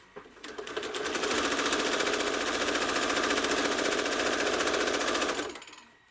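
A home sewing machine stitches through a quilt, spinning up into a fast, even, loud rattling hum that runs steadily for about four seconds before winding down to a stop.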